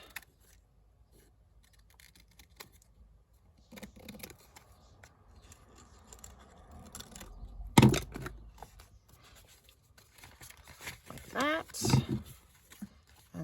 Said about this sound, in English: So we'll just trim that.